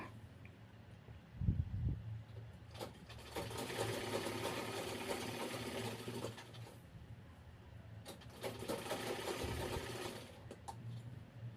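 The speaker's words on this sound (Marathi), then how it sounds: "याच पद्धतीने दुसरी बाजू शिवून घ्यायची आहे" A sewing machine stitches a seam on a long dress made from a reused Paithani saree, running in two sustained bursts of rapid mechanical whirring separated by short pauses and soft handling thumps.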